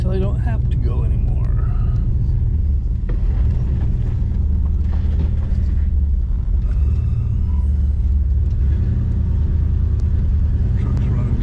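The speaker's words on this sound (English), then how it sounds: "Truck's running kind of odd." A truck engine that is running roughly drones as a low, steady rumble while driving, with a person talking over it for most of the stretch.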